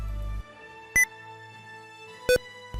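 Windows 10 num lock indicator sound: two crisp electronic beeps about 1.3 seconds apart, the first higher and the second lower, clear and alone against near silence.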